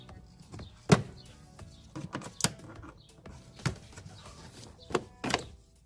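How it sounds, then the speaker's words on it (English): A flathead screwdriver pries a plastic cover off the inside of a G20 car door, giving a few sharp snaps and clicks spread across several seconds, with quieter scraping and handling noise between them. "Go ahead and get a flathead and just pry the cover off"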